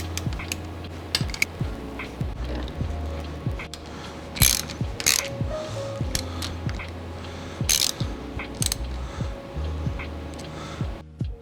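A ratchet tightens a nut during a GSX-R fork conversion, giving a close, loud, rapid clicking of the pawl in repeated strokes with short pauses between them, and no speech.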